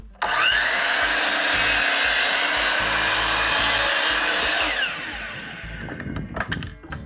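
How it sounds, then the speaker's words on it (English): A miter saw cuts lengthways through 3/4 inch pine at a 20-degree angle, a loud close whining rasp of the blade biting wood that runs for several seconds, then fades into the motor spinning down. "Then I'll cut it lengthways on that 20-degree angle with my miter saw."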